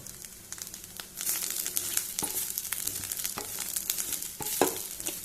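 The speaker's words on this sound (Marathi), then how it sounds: "ही पळया आतां ही सोय बरे पैकी भाजून जाली." Grated coconut roasts in a pan for Goan horse gram curry, giving a soft, steady dry sizzle and crackle with intermittent scraping stirs from a spatula, close and fairly quiet, with no talking.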